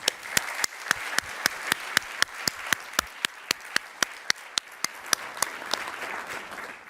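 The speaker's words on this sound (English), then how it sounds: "the spontaneous applause proves the wisdom of your remarks" Spontaneous audience applause fills a conference plenary hall, a steady wash of many hands with sharp regular claps standing out, sustained and fairly close with no talking over it.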